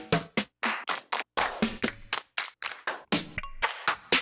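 A rapid run of punchy drum machine snare samples fired one after another, about a dozen sharp separate hits in quick, slightly uneven succession, loud and close with no other sound.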